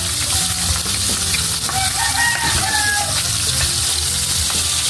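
Four milkfish (bangus) sizzle steadily in hot oil with a loud, constant crackle. A rooster crows faintly in the background.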